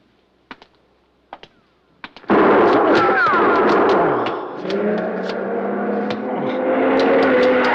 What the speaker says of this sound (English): Shooting. You've been hit.